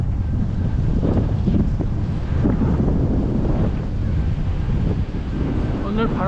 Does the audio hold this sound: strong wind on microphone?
yes